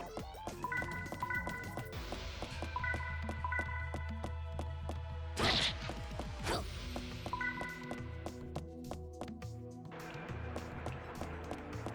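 Dogs bark in the video game Crimson Tears, sharp yips mixed into busy game sound effects, music and clattering hits, with a burst of louder noise midway.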